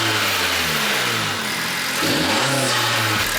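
A 10th-generation Honda Civic engine fitted with a PRL short ram intake revs hard and loud close by, the pitch dipping and then climbing again in a second throttle blip.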